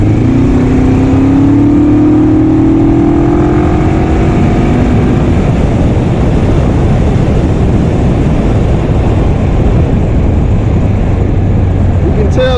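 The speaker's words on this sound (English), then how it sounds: "You can tell the difference in the engine when you got it in low." Engine of a 1980s Suzuki GS450A automatic motorcycle revving in low gear, a loud close rising drone that settles into a steady rumble, with someone talking over it.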